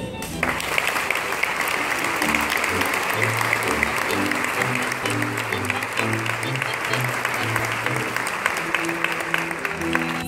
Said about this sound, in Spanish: reciban un gran aplauso por parte de ustedes